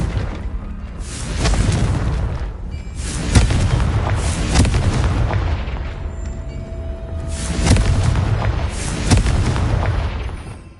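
Confringo blasting spells from a Hogwarts Legacy fight explode in heavy booming bursts, several loud detonations rolling over a dense rumbling game soundscape, with no voices.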